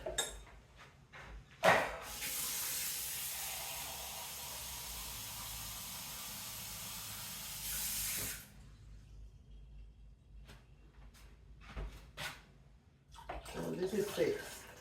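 Tap water runs in a steady hissing stream into a container for Brazilian lemonade for about six seconds, framed by clinks and kitchen handling sounds before and after.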